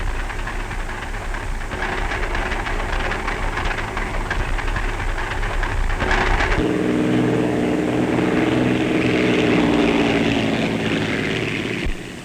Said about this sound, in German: Auch unsere Jäger landen, nachdem sie für diesmal ihre Aufgabe erfüllt haben